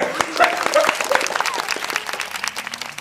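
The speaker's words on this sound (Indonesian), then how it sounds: "Lah, tepuk tangannya mana nih?" Comedy show audience breaking into applause, a dense burst of clapping that stays fairly loud and steady for a few seconds, with some voices faintly mixed in.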